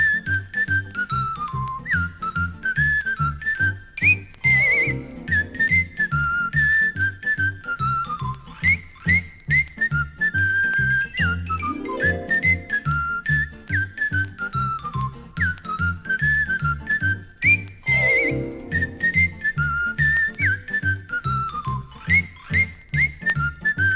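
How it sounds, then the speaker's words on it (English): A man whistles a wandering, melodic tune on a makeshift raft at sea, steady and clear, the pitched line sliding up and down over a continuous musical accompaniment with rhythmic low notes. "To keep up his spirits, he whistled this tune."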